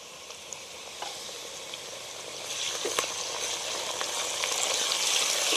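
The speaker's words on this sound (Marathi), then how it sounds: "हिंग टाकून झाला की आलं लसणाची पेस्ट टाकते" Ginger garlic paste dropped into hot oil already seasoned with asafoetida, sizzling steadily and growing louder and busier toward the end, with faint crackles throughout and no voices.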